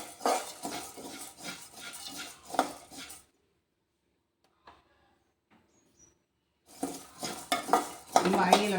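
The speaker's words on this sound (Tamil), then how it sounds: "கை விடாமல் வறுத்துக்கினே இருக்கணும்." Rice and dal dry-roasting in a pan while being stirred continuously over medium heat: scraping, rattling stirring strokes in two bursts, separated by a few seconds of near silence.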